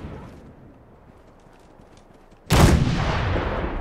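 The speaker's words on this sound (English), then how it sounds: "I guess we have unlimited artillery shells." Artillery shell explosion in the Fallout 4 video game: after a low rumbling lull, a sudden loud blast hits and then decays slowly into a long, booming wash of noise.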